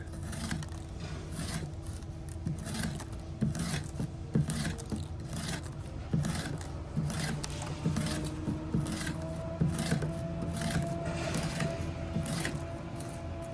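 A Civivi Vision FG folding knife with a freshly sharpened edge slices through cardboard in a series of quiet, rhythmic scraping and rasping strokes, heard close up with no talking.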